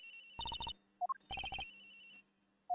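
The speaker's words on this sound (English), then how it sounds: "Agent Hick's phone. It's ringing from somewhere, sir." A cell phone rings in a video game, two bursts of bright electronic ringtone trills separated by short pauses, with brief higher chirps between them, clear and alone.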